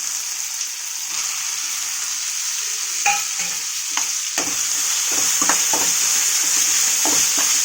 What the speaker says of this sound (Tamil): தக்காளி நல்லா ஃப்ரை ஆகணும்